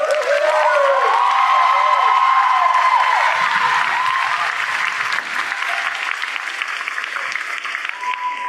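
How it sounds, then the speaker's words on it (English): A large crowd at a school Thanksgiving program applauds steadily with scattered cheers and whoops, the clapping dense and sustained throughout. "One more round of applause."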